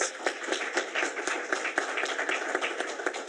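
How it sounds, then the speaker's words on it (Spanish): Audience clapping after a talk at a presentation event on web3 projects, a steady patter of many hands at moderate distance, continuous throughout with no voices over it. "Un aplauso."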